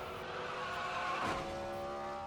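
Race cars wreck in turn one during a race, a distant roar of engines with a rising screech of skidding tires that swells near the middle and then fades back into a steady engine drone.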